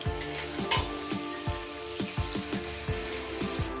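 Sliced onions frying in hot oil, a steady close sizzle punctuated by a series of regular knocks from stirring against the pan, with no voices.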